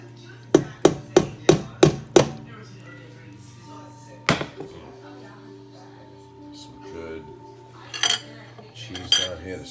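A metal spoon works through mac and cheese shells and cheese roux in a pot, striking the metal in a quick run of six sharp clanks, then scattered knocks and scrapes with a faint voice underneath.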